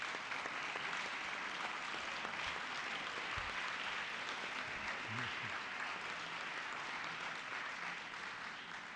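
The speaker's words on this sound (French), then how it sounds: "On peut les applaudir, oui." Sustained applause from a plenary assembly audience welcoming a delegation from Lebanon's Economic and Social Council, dense, even clapping filling the hall, somewhat distant, with a low thump partway through.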